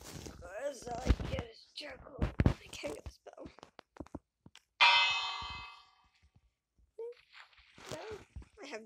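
A bell in the video game Minecraft rings once with a bright, decaying tone amid a man's soft, intermittent talk and other quiet game sounds.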